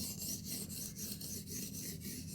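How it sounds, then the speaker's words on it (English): A steel blade rasps across a sharpening stone in steady, rhythmic gritty strokes as the burr folds over from the other side, close and clear with no voices. "You hear that grittiness?"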